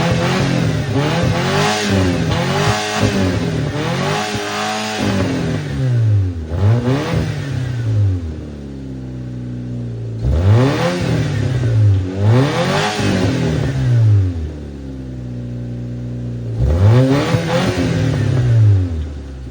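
Nissan engine revving hard in repeated bursts toward a 7,000 RPM rev limiter, rising and falling roars in quick clusters, loud and close with no one speaking.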